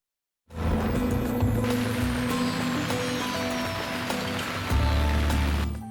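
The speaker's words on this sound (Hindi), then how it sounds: "लाहौर समेत पंजाब के बेशतर हिस्सों में बारिश से जल थल एक हो गया।" Steady heavy rain pours down in Lahore, Punjab, during a spell of stormy weather, making a dense, continuous hiss with a low rumble of traffic underneath and no voices.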